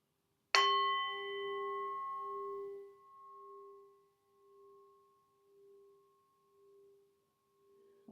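A singing bowl is struck once and rings out alone, a bright strike settling into a steady sustained hum with a slow wavering pulse as it fades over several seconds, used in a relaxing yoga session.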